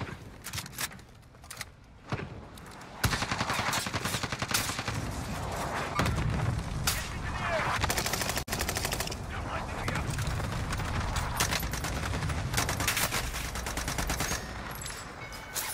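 Rapid gunfire and explosions in a multiplayer shooter video game, loud bursts of automatic fire and booms filling most of the stretch after a quieter opening, with players talking over the action.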